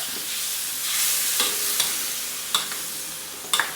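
Annatto being stirred into pork pata kare kare in a pan, a continuous sizzle with a few sharp spoon clinks against the pan.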